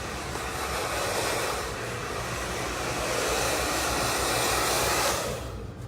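A hair dryer blasts steadily and loudly nearby while a short layered bob is blow-dried, giving a continuous broadband roar that barely changes for about six seconds and cuts off at the end.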